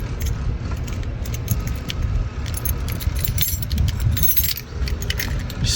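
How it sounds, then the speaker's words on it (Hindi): A bunch of keys jingles and rattles as a room door is unlocked, metallic clinks recurring close by over several seconds with faint background hum. "बिस्मिल्लाह पढ़ के दरवाज़ा खोलेंगे।"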